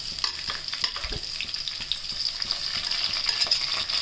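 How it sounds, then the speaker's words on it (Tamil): Onions for chicken thokku fry with a loud, steady sizzle close by, broken by quick scraping and tapping as a spatula stirs them through the pan. "வெங்காயம் நல்லா வதங்கிடுச்சு"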